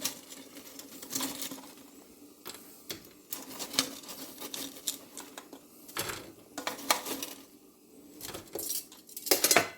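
Spicy fries being taken out of a Ninja air fryer basket, with repeated metallic clinks and scrapes coming in irregular bursts between quieter stretches, close by and fairly faint.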